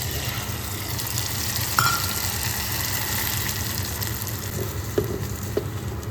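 Pasta frying in a pan with chillies, tomatoes and onion gives a steady close sizzle over a low background rumble, broken by a few light clinks of stirring, with no voices.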